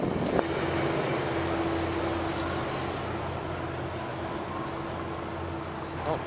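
Steady rumble of a Caltrain commuter train in motion, heard from inside the car on a ride home, with a constant low hum and a faint sustained whine running throughout.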